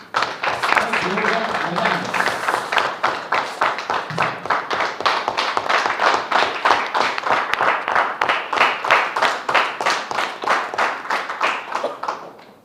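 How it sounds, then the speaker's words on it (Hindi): An audience at a management training session claps loudly in a steady, rhythmic unison beat that runs the full length, with a few voices briefly heard near the start. "तो अपने लिए एक बार जोरदार तालियां बजा दें।"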